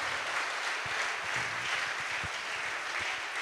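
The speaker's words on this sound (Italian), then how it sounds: "Un grande applauso per Marco Cherubini." A crowd applauds an aerobatic pilot at an anniversary celebration for an air brigade in Pisa, with dense, even clapping that holds steady throughout and no speech on top.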